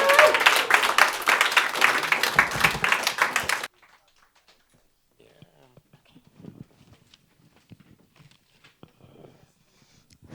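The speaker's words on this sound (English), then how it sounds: "let's have another round of applause" An audience at a literary conversation event claps in a warm round of applause, dense and fairly close, for several seconds before cutting off abruptly; afterward only faint scattered taps and small handling noises remain in a quiet room.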